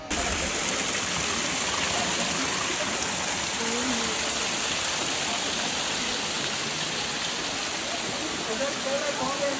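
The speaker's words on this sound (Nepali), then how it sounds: "जम्मा जम्मी यहाँ चाहिँ 108 धारा छ है ल।" Water pouring from the 108 stone water spouts at the Muktinath temple in Mustang, Nepal, a dense, continuous rushing hiss that stays loud and unbroken throughout.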